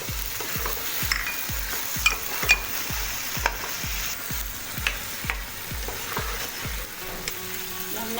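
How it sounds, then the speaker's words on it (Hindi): Garlic sizzling in oil in a cooking pot while making creamy white chicken makhni handi, with a spoon scraping and stirring in a steady rhythm about twice a second over a continuous close fry. "लहसुन डाल के ना अच्छी तरह फ्राई कर लेंगे इसको।"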